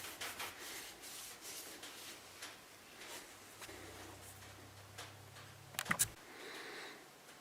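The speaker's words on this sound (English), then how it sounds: "I'm going to buff this excess tung oil off of here so that it doesn't get sticky" A cloth buffs excess tung oil off a spalted maple knife handle with soft, close rubbing strokes. A quiet steady hum sits underneath and a brief louder clatter comes near the end.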